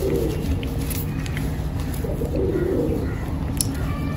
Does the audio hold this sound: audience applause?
no